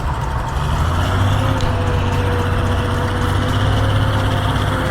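Six-wheel dump truck engine runs steadily, a loud, close diesel idle with a constant low drone and faint hiss, no voices.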